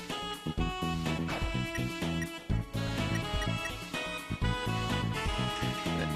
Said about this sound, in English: Yeah, that's like a Night in the Woods ringtone.